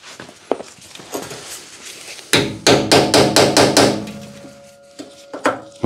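A hammer strikes a chisel while prying off the front panel of a Haier water dispenser, a quick series of sharp, loud metallic blows close up, preceded by a few lighter knocks.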